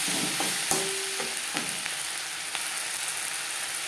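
An onion, tomato, salt and turmeric mixture sizzles steadily in a pan for a Bengali fish oil and roe chorchori, with a few sharp spoon scrapes and taps punctuating the constant hiss.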